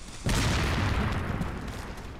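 An explosion goes off in an enemy's hand in Resident Evil 4 Remastered: a sudden loud boom hits after a brief quiet, then a rumbling, crackling decay fades over about two seconds.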